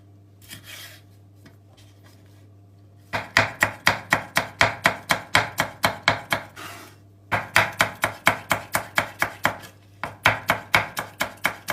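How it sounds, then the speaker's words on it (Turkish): Onion with green and red peppers chopped on a board for a minced-meat moussaka filling: a rapid, even run of crisp knife strikes in two long bursts with a short pause between them, close and loud. "Kıymalı harcımız için soğan, yeşil biber, kırmızı biber bunları yemeklik doğrayalım."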